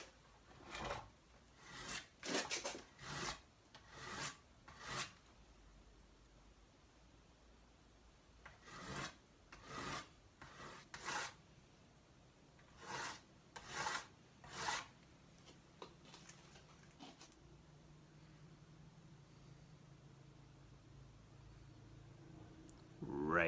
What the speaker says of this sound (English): it's really important that we sharpen our broadheads like a razor sharp